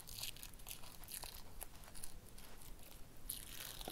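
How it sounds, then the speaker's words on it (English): A glitter face mask being peeled off skin, starting at the bottom, gives steady crinkly, crackling tearing sounds with bright crisp bursts, close and continuous, with no talking. "gonna start peeling at the bottom"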